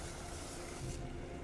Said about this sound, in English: Now we just spray it